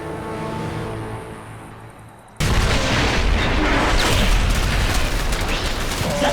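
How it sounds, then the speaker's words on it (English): In a StarCraft 2: Heart of the Swarm cutscene, a cannon is blown up: after a quiet stretch, a sudden loud blast breaks out into sustained roaring explosion and debris noise that fills the rest of the moment. "Now let's get up to their base and destroy that cannon before Jim arrives."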